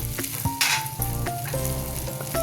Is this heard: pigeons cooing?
no